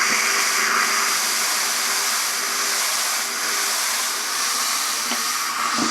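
A steam mop hisses steadily after a blockage in it has been cleared, giving a continuous, loud, broadband rush of steam with little change over several seconds.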